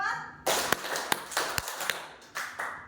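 Students and teachers at a junior high school clap in a counting game, several sharp, loosely synchronized claps spaced across the moment, with a voice calling counts between them and a quiet room around.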